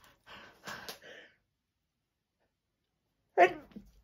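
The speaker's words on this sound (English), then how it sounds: "I've got a bit of hay fever. I'm just about to sneeze." A person with hay fever sneezes once, a sharp close burst after a few quieter breathy, snuffling sounds, with silence in between.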